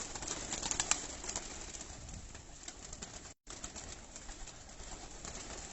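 Breeder pigeons on a rooftop coo softly against a steady hiss of outdoor background, with a few brighter chirps near the start and no voices.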